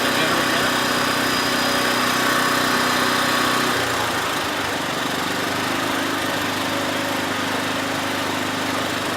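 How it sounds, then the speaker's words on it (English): A camping generator engine runs steadily beside a camper in a national forest campsite, a loud continuous drone whose pitch drops and roughens partway through as it is throttled down, then keeps idling lower. "I'm going to turn the generator down."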